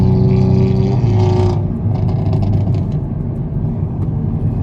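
A loud 2024 Hyundai i30N drives along the road with a steady, rumbling exhaust drone, heard from up close, with a brief higher engine surge near the start before settling into a continuous low rumble.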